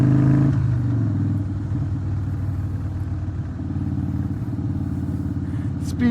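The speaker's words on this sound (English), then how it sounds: "This bike just wants to go. Just wants to get up and go." A Harley-Davidson Breakout Softail motorcycle rumbles loudly on the move, its engine note rising as it accelerates and holding a steady deep drone with gear-change shifts, recorded close and alone.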